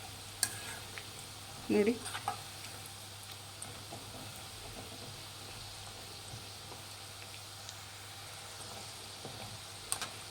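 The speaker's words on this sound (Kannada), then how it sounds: "ಇನ್ನೊಂದು 2 ನಿಮಿಷ ಚೆನ್ನಾಗಿ ಫ್ರೈ ಮಾಡಿ" Spicy masala-coated peanuts fry quietly in a pan, a faint steady sizzle with a brief stirring clatter early on and a single spoken word near the start.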